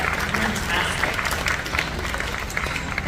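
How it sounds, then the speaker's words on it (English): A museum audience at a live glassblowing demonstration gives the team a round of applause, a dense, moderately loud clapping that runs steadily throughout with a few voices mixed in. "Let's get the team a big round of applause for that"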